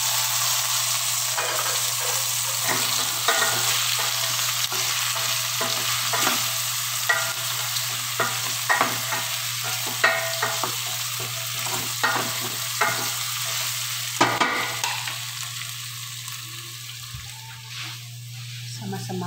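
Chicken feet frying in a pan with tomato, stirred again and again, giving a steady sizzle broken by scraping strokes from a utensil.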